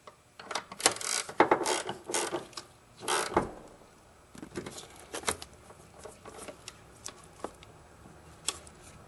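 A hand ratchet tightens the starter bolts on a 2002 Toyota Avalon, clicking in short uneven bursts of rapid pawl ticks close by, louder at first and then lighter and more spaced out.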